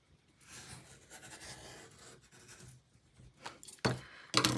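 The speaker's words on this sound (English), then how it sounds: "next we need to cut another oval with the second smallest oval template and red blade on the inside track" A border cutting tool's blade scrapes and rasps as it cuts an oval through cardstock, soft scratchy strokes at first, then a few sharper, louder clicks and snaps toward the end; no voices.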